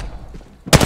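Apex Legends gunfire erupts as a short, loud rattling burst near the end, following a moment of low game ambience.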